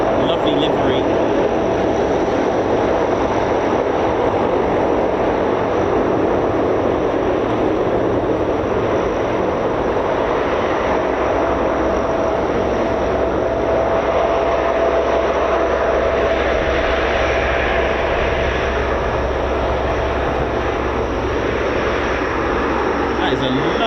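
A Lockheed C-5 Galaxy military transport arriving at RAF Fairford during an air show, with a sustained engine drone and a rising whine across the span, under a voice talking.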